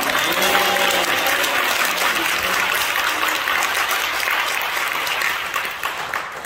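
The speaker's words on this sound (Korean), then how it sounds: "우리 하나님께 영광의 박수를 올려드립니다." A large congregation at an outdoor Easter union church service gives sustained, loud applause that rolls on evenly and then starts to thin near the end.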